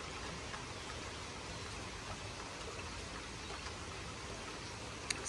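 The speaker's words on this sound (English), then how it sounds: "I have a nice peaceful rain this afternoon." Gentle afternoon rain in a rose garden, a soft, even wash of hiss that stays quiet and unchanging, with one faint tap near the end and no talking.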